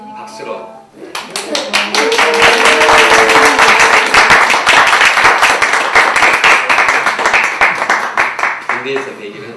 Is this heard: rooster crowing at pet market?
no